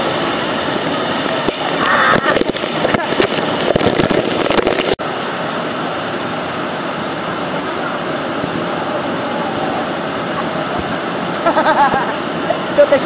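Ambon-ambon Falls at Pangil Eco Park, Laguna, rushing loudly in a steady broadband roar at close range, with people talking and cheering over it.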